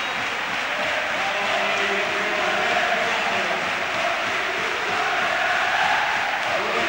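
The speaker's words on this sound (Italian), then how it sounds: "tutta la tifoseria della Fortitudo in piedi con i grandi cori" Fortitudo Bologna basketball fans stand and chant in a 1996 arena game against Stefanel Milano, a steady, dense crowd roar filling the hall throughout with no single voice standing out.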